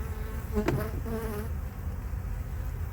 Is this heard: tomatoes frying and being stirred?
no